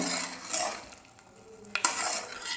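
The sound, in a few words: stirring boiling grape squash syrup in a pot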